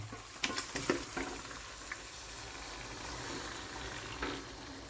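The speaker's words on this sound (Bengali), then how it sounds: "এবার এর মধ্যে আমরা এই জল শুদ্ধ মাংসটাকে এর মধ্যে অ্যাড করে দেবো।" Meat soaked in lemon-salt water drops into a pan of frying spices for lemon chicken, setting off a loud sizzle with a few sharp splashes and stirring scrapes, then a steady frying hiss.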